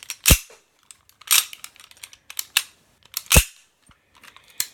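A Tokyo Marui Night Warrior airsoft pistol fires three sharp, loud cracks about a second apart, each with a snappy slide cycle, amid lighter mechanical clicks and handling taps up close.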